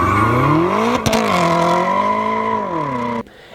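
A BMW M S63 4.4-liter twin-turbo V8 revs loudly and steadily, its pitch climbing then holding with a brief sharp surge, before cutting off abruptly near the end.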